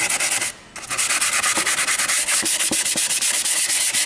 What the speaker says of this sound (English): Always sand with the grain.